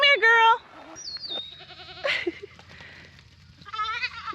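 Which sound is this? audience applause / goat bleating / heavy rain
goat bleating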